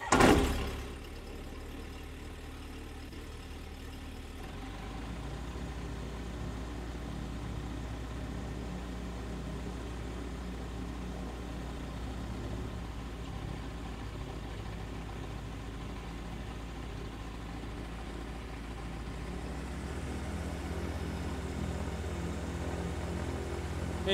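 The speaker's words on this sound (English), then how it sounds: "So we've got zero fuel flow and we'll start the engine." A light aircraft engine cranks with a brief burst, catches and settles into a steady low idle that drones on evenly for over twenty seconds with no talk.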